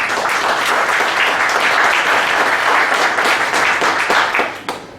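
Loud, enthusiastic audience applause welcoming a speaker at a public security conference, dense clapping holding strong before tapering off abruptly near the end.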